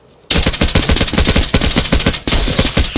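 M61 rifle fire in the military shooter game Squad rattles out in a loud, rapid automatic burst, broken by one brief gap before the shots resume.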